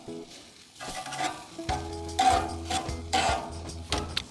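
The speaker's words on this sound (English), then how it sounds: "So our peppers have been grilling for just another 2 minutes." Red peppers and other vegetables grilling, giving a steady close sizzle with scraping and stirring clatter on the surface, a few metallic ticks, and louder bursts in the second half.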